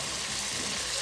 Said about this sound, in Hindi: थोड़ा थोड़ा करके डालेंगे और साथ चम्मच चलाएंगे